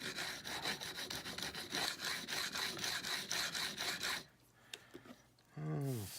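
A thin chisel being honed on a 6000 grit sharpening stone with a Sharp Skate guide, rhythmic back-and-forth scraping strokes, close and quiet, followed by a pause and a brief voice at the end.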